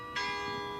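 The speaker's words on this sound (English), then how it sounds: "Just as the bell goes there." Church bell at Dunfermline Abbey ringing a single strike, a sustained metallic tone with steady ringing overtones that hangs through the moment.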